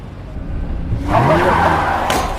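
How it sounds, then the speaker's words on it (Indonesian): A taxi speeds along and crashes into something, breaking its side mirror: a loud, rising rush of engine and tire noise swells suddenly partway through, with a sharp higher burst near the end. "tiba-tiba taksi Kim menabrak sesuatu yang mengakibatkan kaca spionnya"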